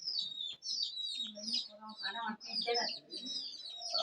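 Chickens cluck and chirp close by in short bursts, a busy run of bird calls over several seconds.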